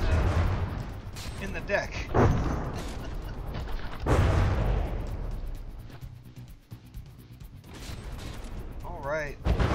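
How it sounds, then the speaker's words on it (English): Ship guns in the naval combat game From the Depths fire in heavy, booming bursts with rumbling explosions, loud and continuous, with someone talking over them. "this gun is repeatedly shooting itself and shooting the ship"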